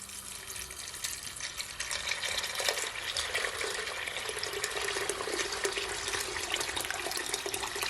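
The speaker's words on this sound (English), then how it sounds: "now guys, I'm gonna add some water to it, okay? And I'm gonna add some warm water." Steady rush of warm water pouring into a cooking pot for stewed peas, close and continuous, growing fuller after the first couple of seconds with no voices.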